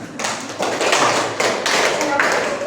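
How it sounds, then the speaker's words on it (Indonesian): Classroom applause from seventh-grade students, a broad wash of clapping that starts after a brief pause and continues steadily, fairly near and full, with no talk over it. "tepuk tangan untuk kelompok 4 dan kelompok 2"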